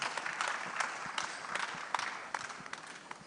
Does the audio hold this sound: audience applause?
yes